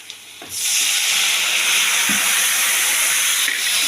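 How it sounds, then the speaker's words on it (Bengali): Spices with turmeric, chilli powder and cumin powder sizzle steadily in a pan as a little water is added and stirred, a loud continuous hiss with a few soft scraping touches. "আর দিয়ে দেবো একটু হলুদ লঙ্কার গুঁড়ো আর দিয়ে দেবো জিরের গুঁড়ো দিয়ে আমি একটু জল দিয়ে কষাবো"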